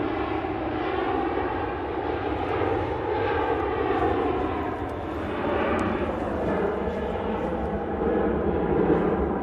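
Jet2 jet airliner at Manchester Airport, its engine roar holding steady and fairly loud across the whole stretch with no speech over it.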